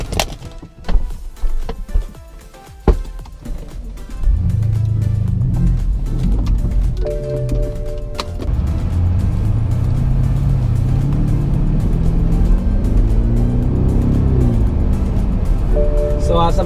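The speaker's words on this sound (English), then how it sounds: "So as I'm driving this car" A used BMW 7-Series 750i with a 400-horsepower engine drives along, its steady engine and road drone running loud and continuous after a few sharp knocks and clatters at the start.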